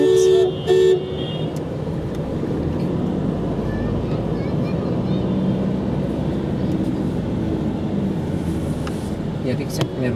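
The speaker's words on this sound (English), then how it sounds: "Traffic's very congested." Congested street traffic in Old Delhi near a bazaar and mosque: a dense, steady rumble of engines with short car horn toots at the start and scattered later, people talking faintly in the crowd.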